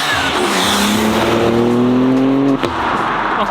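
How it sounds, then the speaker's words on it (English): BMW G8X M3/M4 with aftermarket front-mount intakes accelerates hard nearby, giving a loud rising engine note over several seconds that cuts off abruptly before a shift. "these are definitely the loudest intakes I've ever heard so far that we've driven"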